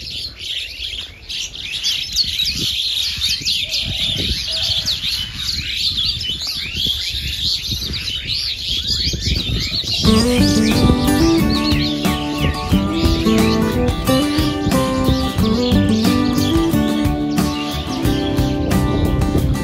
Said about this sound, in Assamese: এই চৰাই চিৰিকটি মাতবোৰ শুনকচোন এইজোপা শিমলু গছ